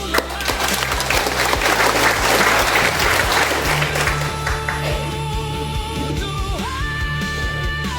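A church congregation applauds loudly and continuously during a Sunday worship service, the dense clapping filling the space before fading into a quieter murmur with a few scattered claps.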